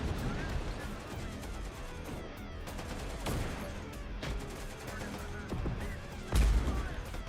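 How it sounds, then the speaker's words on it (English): Plasma recoilless gun fired from a Humvee in the game Terminator Dark Fate Defiance, amid a dense, continuous battle din of repeated heavy shots and blasts, with a sharp loud burst near the end. "I've got a plasma recoilless on this Humvee."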